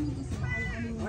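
Blue-eyed kitten meowing in a short, close vocalization that runs into a person saying "meow" in imitation, with a voice speaking underneath.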